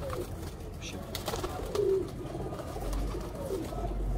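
Sialkoti Ali wale pigeons coo softly from a rooftop in low, throaty bursts, with quiet voices talking in the background.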